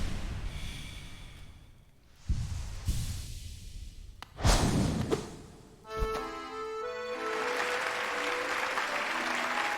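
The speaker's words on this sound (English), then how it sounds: "Hear how the crowd adores you." Crowd applause in Hollow Knight, a sustained wash of clapping and cheering from an arena audience that swells and fades, punctuated by sharp impact sounds and breathy grunts.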